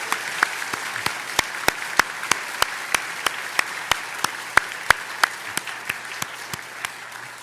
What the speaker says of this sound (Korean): 우리 사랑하는 청소년들에게 감사와 격려의 박수 한번 이 시간에 하도록 하겠습니다.